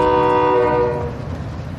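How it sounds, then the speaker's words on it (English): Approaching train in a video game sounds a loud, sustained multi-tone horn for about a second, then fades into a rumbling rail roll. "Train is coming, there might be people on it."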